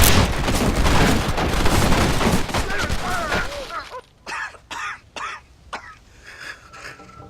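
Gunfire in Red Dead Redemption, a dense, loud burst of shots dying into a handful of separate sharp cracks spaced apart, some fainter, with a voice heard early on.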